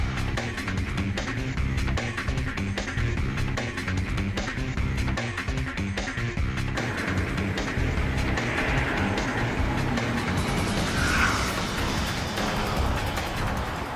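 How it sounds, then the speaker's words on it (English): A 2013 Tesla Model S rolling along the road, heard as a steady broadband rumble of tire and road noise from inside the cabin, with no engine sound and no talk. "Now it's time to get rolling and see how the Model S works on the road."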